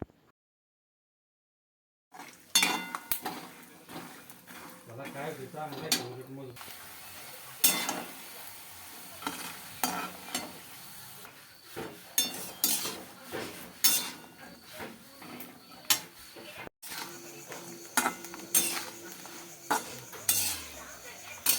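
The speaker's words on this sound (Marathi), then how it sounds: "इथे आता मी शेंगदाणे आहे ते पहिल्यांदा तळून घेत आहे" Peanuts frying and being stirred in a pan for Diwali snacks, with irregular clinks and scrapes of a metal spoon against the pan over a soft sizzle, after a brief silent start.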